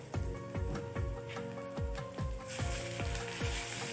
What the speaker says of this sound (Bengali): এবার দেব আদা পেস্ট, রসুন পেস্ট,